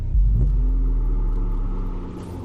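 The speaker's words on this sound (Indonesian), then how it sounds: "kayak ada suara mobil" A car approaching, a deep, close engine rumble that starts abruptly and holds steady, slowly fading toward the end, with no voices.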